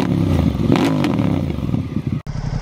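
A powerful stock sport bike runs up close with a loud, throaty engine note. A brief cut near the end is followed by a lower rumble.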